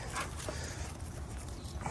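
Faint, high little whimpers from golden puppies, a few brief soft cries over quiet outdoor background noise on a homestead.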